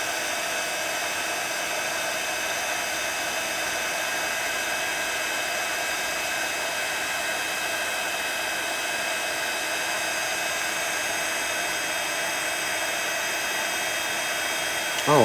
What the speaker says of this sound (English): make sure I'm heating my heat gun